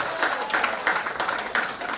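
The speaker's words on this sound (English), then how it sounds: "Give yourselves a round of applause if you're singing along." An audience at a charity concert for Trinity Hospice claps steadily in a hall, a dense, moderately loud patter of many hands with light voices mixed in.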